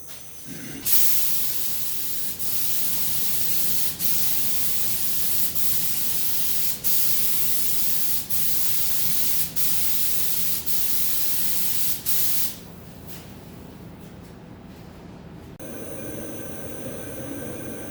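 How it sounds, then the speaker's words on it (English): A spray gun laying down tri-coat automotive paint gives a loud, steady hiss that runs almost without a break, with short regular pauses as the trigger is released. The hiss drops off near the end and leaves quieter shop noise. "Never sprayed a tri-coat before."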